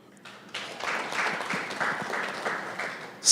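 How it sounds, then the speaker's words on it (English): Conference audience at the SKN Diaspora Conference breaking into applause, a hall of clapping starting abruptly and holding steady for a few seconds, ending in a sharp loud burst. "So you get another round of applause, my brother."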